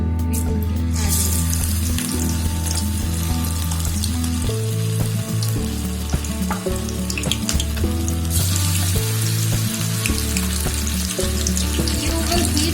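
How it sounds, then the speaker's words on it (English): Chicken pakoda coated in maida, corn flour and onions fries in hot oil, a loud, dense, steady sizzle heard up close with occasional stirring clatter and no speech. "now we will be frying it"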